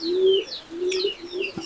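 Domestic pigeons kept in a small backyard coop coo up close, giving three drawn-out, evenly spaced calls with soft chirps over the top and no talking.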